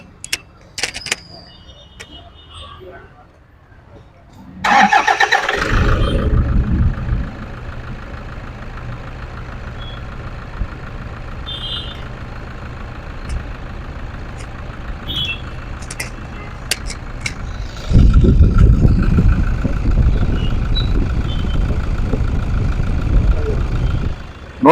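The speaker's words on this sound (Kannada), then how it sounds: "ಇವಾಗ ಇಂಜಿನ್ನು ಕೂಡ ಸ್ಟಾರ್ಟ್ ಮಾಡೋಣ, ಹೆಂಗಿದೆ ಅಂತ ನೋಡೋಣ." A 2016 Toyota Fortuner 4x2 diesel with manual gearbox cranks and catches after a few quiet clicks, then settles into a steady close idle that grows louder and rougher for the final stretch.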